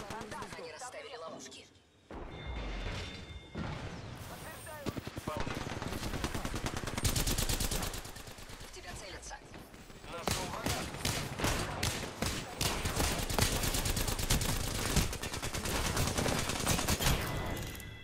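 Repeated bursts of automatic gunfire and single shots in an Apex Legends match, loud and close, with sustained rapid fire in long stretches and short pauses between volleys, and game voice lines over the shooting.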